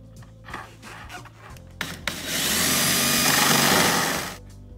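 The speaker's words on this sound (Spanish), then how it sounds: "vamos a hacer el taladro con mucho cuidado" A few knocks and scrapes, then a power drill whirs loudly and steadily for about two seconds, drilling a hole in a Porsche Cayenne, before winding down.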